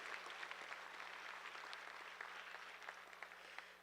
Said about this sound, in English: let's give these juniors a really big round of applause